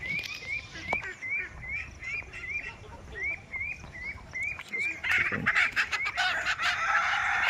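Roosters and hens on a farm, several short repeated crowing-like calls in a steady series over clucking, with busier overlapping fowl calls and bursts near the end.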